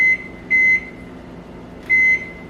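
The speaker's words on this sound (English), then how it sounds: "Set my timer here for 50 minutes or so, and I'll check on it." A kitchen oven timer being set while baking a rhubarb crisp, giving short electronic beeps: one near the start, a second double beep around half a second, then a longer beep near two seconds, each clear and close with no talk.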